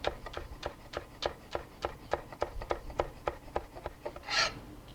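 A knife slices through rolled basil leaves on a cutting board, giving a steady run of about a dozen quick, close crisp cuts with a brief rustle near the end.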